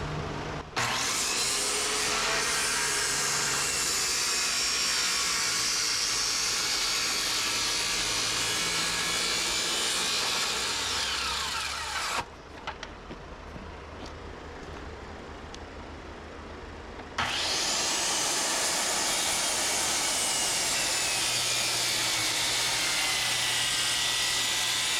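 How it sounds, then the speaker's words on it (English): Sawzall reciprocating saw cutting wood for a shop loft, loud and continuous for about twelve seconds, pausing briefly to a low hum, then roaring back on for the remainder. "now we gotta get the sawzall out and see if we can cut this"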